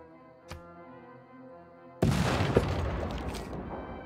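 Field cannon firing in Civilization 6: a short sharp crack, then a sudden heavy boom that rolls on as a dense rumbling blast over a quiet tonal music bed.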